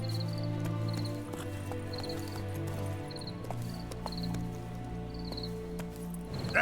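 Roach, a horse in The Witcher 3, clip-clops in a steady rhythmic gait beneath sustained game music with chiming tones, hooves fairly prominent throughout.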